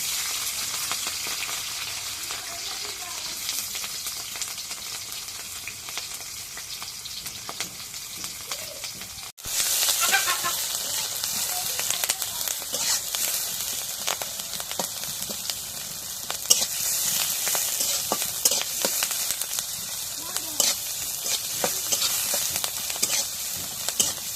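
Chopped onion and green chili sizzle and crackle in hot oil in a kadai, a continuous close frying hiss that grows brighter partway through, with no voices.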